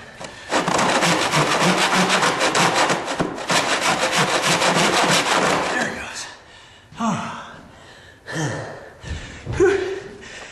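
Handsaw undercutting a wooden door jamb, steady back-and-forth strokes close and loud for about six seconds, then stopping, followed by scattered handling knocks and a few breaths.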